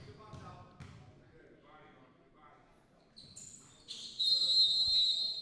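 A referee's whistle sounds at a high school basketball game between Serra and Lawndale, one sharp, fairly loud blast near the end, after quiet commentary and court noise.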